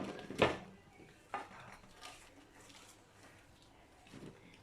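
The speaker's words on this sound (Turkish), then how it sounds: "Patlıcanı dökeceğim." Chopped eggplant tumbles into a pot with a quick clattering scrape, followed by a couple of lighter knocks and faint kitchen noise.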